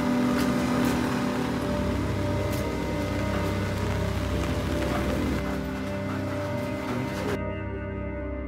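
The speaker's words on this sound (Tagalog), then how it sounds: "Still raining." Rain falling steadily outdoors near a mountain overlook, a constant broadband patter that holds at an even level throughout and ends abruptly.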